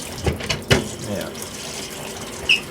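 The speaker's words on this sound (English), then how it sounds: "And it shoots hot water through it." Hot water runs from a kitchen tap through a cup cleaner in a steady hiss, broken by a few sharp splashes and clunks.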